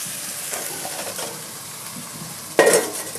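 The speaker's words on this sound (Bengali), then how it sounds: "মশলাটা অর্ধেক কষানো হয়ে গেছে, এবার মাংসটা মিশিয়ে দেবো।" Chicken pieces are stirred into a sizzling spice paste frying in a pan, a close soft sizzle with scraping stir strokes and a brief sharp clink of a utensil against the pan near the end.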